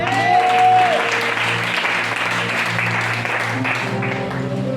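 Congregation at a French-language church service breaking into steady, dense applause that fills the room, with a sustained tone and a few voices faintly mixed in throughout.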